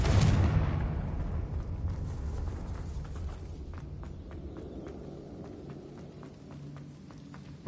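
A Confringo blasting spell explodes in Hogwarts Legacy, opening with a sharp loud burst that rolls into a long low rumble, followed by faint scattered footstep-like taps as the noise fades.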